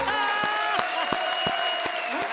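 A comedy show audience claps enthusiastically while music with sustained tones and a steady beat plays.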